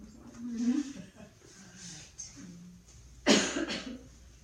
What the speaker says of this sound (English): why is she coughing?